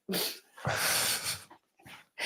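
A dog lying close by makes soft whimpers and breathy snuffles in several short bursts, near and fairly quiet, with no talking.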